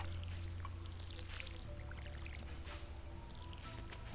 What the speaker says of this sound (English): Refill our water can.